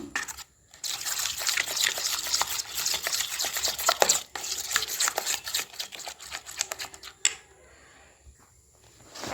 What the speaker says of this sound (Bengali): দেখুন এটি ভালোভাবে ফেটিয়ে নেব একটু ব্যাটারটি